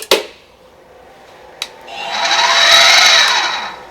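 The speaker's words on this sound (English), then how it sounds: "believe it or not, it's a drill" A couple of sharp knocks, then a power drill spins up and whines loudly for about two seconds before winding down.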